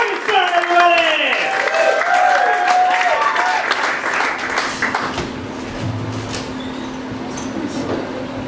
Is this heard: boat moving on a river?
no